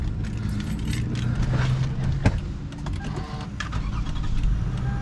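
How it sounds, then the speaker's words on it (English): A 2012 Toyota Sienna Limited power seat motor runs as the seat moves automatically, a steady mechanical whir with a soft click partway through, close and alone. "It automatically moves the seat out of the way to make it easier to get in and out"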